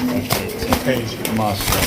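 Pigeons coo close by in low, repeated throaty calls, with people talking over them throughout.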